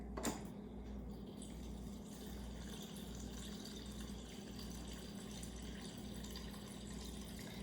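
Water pours steadily from a fridge dispenser into a cup, a continuous close gushing hiss lasting several seconds.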